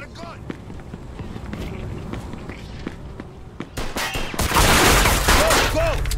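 Gunfire erupts in the Mafia 2 Definitive Edition remaster, a burst of loud shots arriving near the end after quieter running footsteps and scattered pops.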